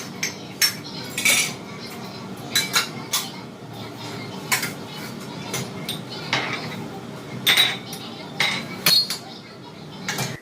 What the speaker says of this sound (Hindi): डिशवॉशर में गंदे बर्तनों को लगाना होता है, जो बर्तन साफ हो जाते हैं उन सारे बर्तनों को निकालना होता है।